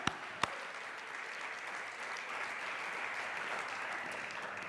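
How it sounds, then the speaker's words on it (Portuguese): A church congregation applauding during a sermon, a few sharp claps at the start giving way to a soft, sustained wash of clapping from many people, fairly distant and steady. "dá um aplauso ao Senhor"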